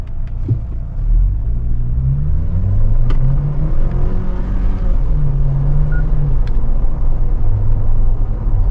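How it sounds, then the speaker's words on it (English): A GWM Tank 300 SUV engine rumbling steadily, its revs climbing and hanging high in first gear for a moment before dropping as it shifts to second. "it over revs in first gear for a moment before it shifts to second"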